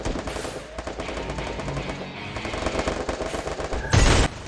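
Rapid automatic gunfire from a shooter video game crackles in continuous bursts, close and loud, with a heavier blast near the end and no talking.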